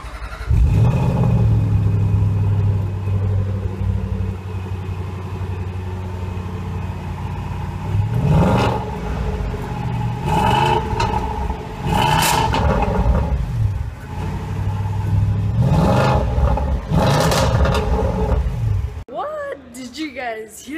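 A Range Rover Vogue SE SDV8 diesel engine starts and revs repeatedly in a showroom, a deep rumbling idle swelling into several loud rising revs. Someone talks over parts of it.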